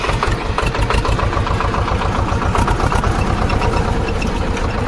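A Swaraj 724 tractor engine idles close by, loud and even, with a rapid steady thumping pulse throughout.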